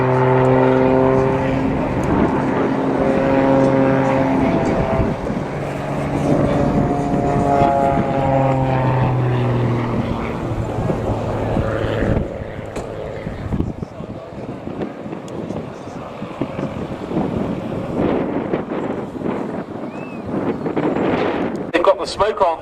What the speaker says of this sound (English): there's also a national military display team flying these aircraft, the Marche Verte, the Green March of the Royal Moroccan Air Force.